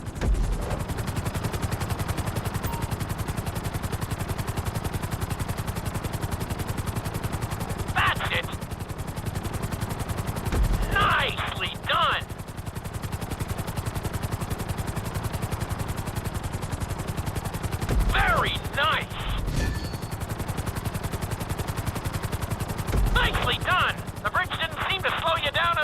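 A helicopter flies in Grand Theft Auto V during a flight-school course, a continuous loud rotor drone broken by several sharp bursts of game effects.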